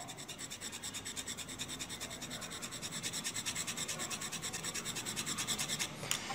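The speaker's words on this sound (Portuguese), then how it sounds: "Eu estou raspando aqui" A key scraping a drywall wall makes a fast, rhythmic, faint scratching that repeats evenly throughout, ending with a slightly sharper scrape.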